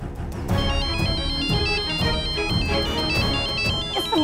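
A loud, close phone ringtone plays a repeating electronic melody with a steady beat, continuous throughout with no voices.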